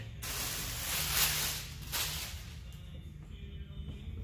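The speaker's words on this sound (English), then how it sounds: "Spray the window down." A spray bottle hisses in a couple of quick bursts close by, wetting a 2003 Corvette window during tinting, followed by quieter rustling and a faint steady hum.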